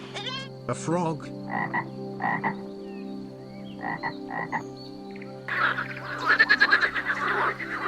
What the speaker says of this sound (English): A frog.